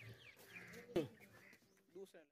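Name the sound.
goat bleating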